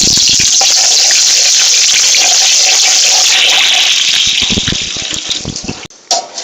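Chopped onions frying in hot mustard oil for a yakhni pulao, a loud, continuous close sizzle that fades and breaks up toward the end as stirring clatters in.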